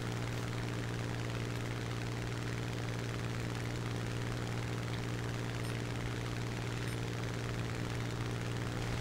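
Aircraft engine in the War Thunder game drones steadily and loudly throughout, a constant propeller-like roar with no talking over it.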